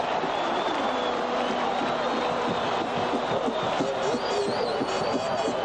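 Stadium crowd at the 1982 Rose Bowl between Washington and Iowa, a steady, dense roar of cheering and murmur filling the background with a faint whistle-like tone and a voice talking over it.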